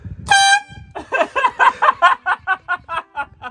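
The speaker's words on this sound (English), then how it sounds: "Do you like our new horn?" A new truck horn fitted to a homemade truck camper blasts once loudly. Then comes a run of rhythmic, fading bursts, which sound like laughter.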